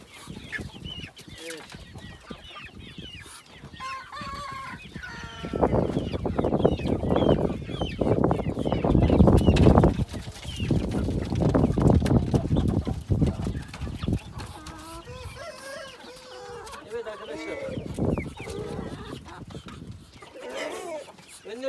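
Chicks and roosters cluck and squabble on a farm as they peck at eggs, a dense, busy flock sound that swells through the middle, with someone talking over it.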